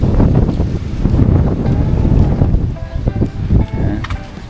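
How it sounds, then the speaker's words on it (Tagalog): Strong wind gusting outdoors among fruit trees with guavas falling, a loud continuous roar buffeting the microphone, with some brief tonal rattles and knocks late on. "sa sobrang lakas ng hangin"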